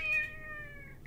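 A cat meows once, a short, clear, fairly close call with a gently falling pitch that trails off over about a second, alone against quiet room noise.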